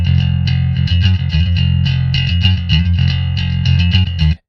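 Scooped, heavily distorted bass guitar tone shaped with the STL Tonality Will Putney plugin on its cleaned-up preset, a loud chugging metal riff with rhythmic palm-muted notes and bright fizzy top, played alone for about four seconds.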